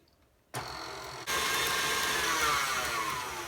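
An electric mixer switches on and then steps up to a higher speed, whipping banana bread batter with vanilla extract in a bowl; a steady, loud whirring drone carries on alone.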